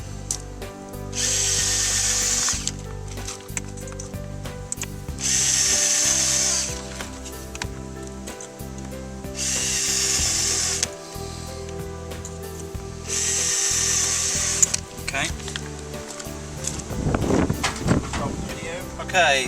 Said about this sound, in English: just put a hole into the rear bumper